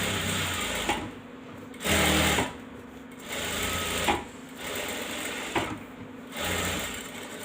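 A sewing machine stitches an embroidered blouse piece in several steady whirring bursts, each a second or two long, separated by short pauses, close and fairly loud.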